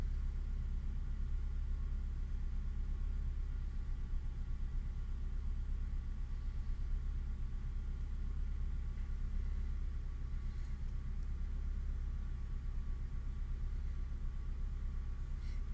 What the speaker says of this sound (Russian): Обороты держатся стабильно, двигатель работает